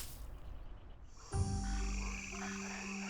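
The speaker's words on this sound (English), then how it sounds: "This region has one of the highest densities of tree frogs in China." Tree frogs in a canyon forest in China break into a loud, dense croaking chorus about a third of the way in, following quieter ambient hiss, then hold at a steady, close level.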